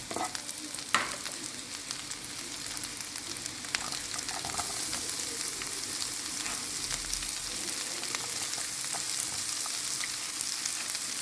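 Onions and green chilies fry in a hot pan as an egg dish is made, giving a steady close sizzle with a few sharp crackles and scraping stirs, and no voices.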